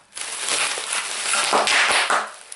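Rapid, dense crackling pops burst out close by in a continuous run, loud and sharp as oversized bubble wrap from a book parcel is crushed.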